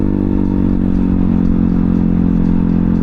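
A Honda Ruckus scooter rides along with a loud, steady mid-pitched engine drone and a faint rattle, uninterrupted by any voices.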